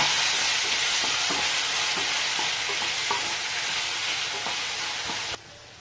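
Chopped tomato sizzles in a hot pan while making prawn gravy, a dense, loud frying hiss with light stirring taps, which drops abruptly quieter near the end; no speech.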